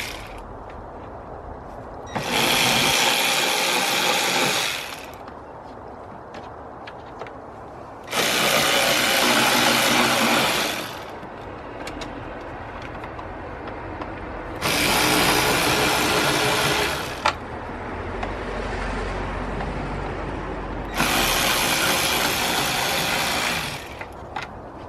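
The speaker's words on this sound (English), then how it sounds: "this cabin air filter box is held in by 4 T30 screws, so we're going to remove them" Four separate bursts of a cordless power driver or screwdriver running loud and close, each a few seconds long with quiet gaps between, backing out T30 screws from a BMW cabin air filter box on an M47/M57 diesel engine.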